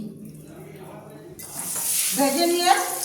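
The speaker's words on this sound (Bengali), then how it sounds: "এটাকে ভেজে নিচ্ছি।" Food hits a hot pan for a Bengali dal and paneer halwa: quiet at first, then a sudden loud sizzle and hiss that swells and keeps crackling close by.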